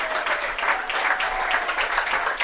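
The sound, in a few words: sports fans clapping at a soccer game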